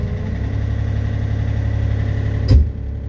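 A Yanmar B37 marine diesel engine runs steadily with a low, rumbling drone while an Arduino-controlled throttle raises its revs, followed by a brief louder burst and thump near the end.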